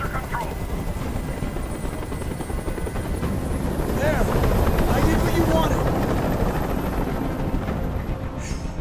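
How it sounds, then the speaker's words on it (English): A helicopter in the video game Detroit: Become Human whirs with steady rotor chop that grows louder midway, blended with game ambience. "Go ahead and get that helicopter out of here."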